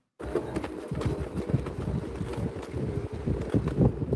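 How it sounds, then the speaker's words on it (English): Outdoor wind buffets a microphone in steady low rumbling gusts that rise and fall for several seconds, with no voices over it. "Oh, it's nice and windy."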